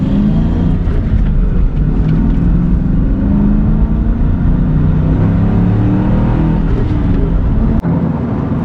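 A 1997 Ford Mustang Cobra SN95 accelerating hard, its engine a loud, steady low roar that builds throughout, close up inside the car with no talking.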